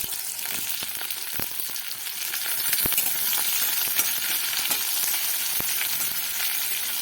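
Onion, green chili and grated ginger frying in oil, a steady close sizzle that swells partway through, punctuated by scattered sharp clinks of a spoon against the pan.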